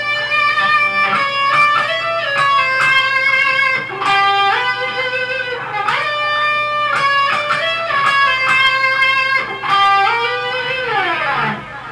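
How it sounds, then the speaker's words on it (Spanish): An electric guitar plays a melodic line through a louder delay effect, sustained notes with echoing repeats overlapping continuously, fairly loud and alone without talking. "el otro efecto con un poquito más de volumen y más delay,"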